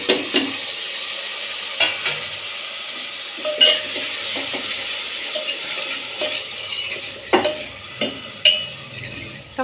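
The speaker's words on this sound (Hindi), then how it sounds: "टमाटर को भी 2 मिनट तक भूनना ज़रूरी है" Tomatoes frying in spiced oil in a pan give a steady close sizzle, broken by several sharp scrapes and clinks of a spoon stirring against the metal.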